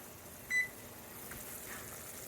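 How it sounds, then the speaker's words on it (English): A kitchen timer gives a single short electronic beep, faint against a quiet room hum. "my timer is about to go off"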